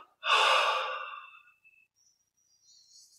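A single long in-breath taken during a guided yoga meditation session, close and clear, swelling then fading over about a second, followed by near silence.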